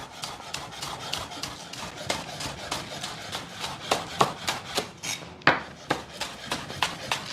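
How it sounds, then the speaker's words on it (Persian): A knife chops green onions on a board in a quick, even rhythm of sharp knocks, close and clear throughout, with no voices. "من از این پیازچای خوشگل یه 3 تا دونه میگیرم و شروع میکنم به خرد کردنش"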